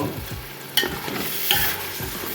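Quarter of a kilo of tomato puree frying in a pan for a country chicken curry, a steady hiss and sizzle with sharp spoon clinks against the pan at two points as it is stirred.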